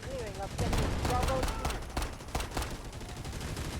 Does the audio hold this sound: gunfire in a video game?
yes